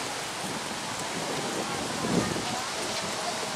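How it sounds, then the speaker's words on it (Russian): Rain falls outdoors as a dense, steady hiss that stays even in level for a few seconds, close and unbroken. "Вот так дождь начнется, а человеку даже спрятаться некуда."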